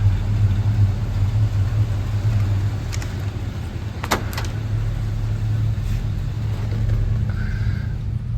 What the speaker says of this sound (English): Let's go get this Pontiac on the road.